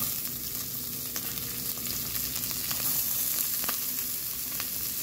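Onion frying with browned garlic in a pan for creamy spaghetti, a steady close sizzle with scattered crisp pops and light stirring clicks, no voices.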